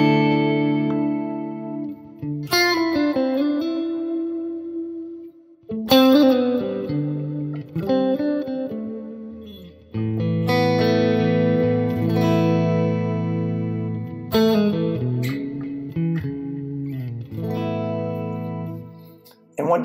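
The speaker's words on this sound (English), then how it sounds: "I've also got a dual chorus on the end of this tone." Clean electric guitar played through a Quad Cortex preset with a dual chorus at the end of the chain and a Hiwatt 4x12 cabinet. Shimmering, sustained chords ring out in several long strummed phrases, loud and alone.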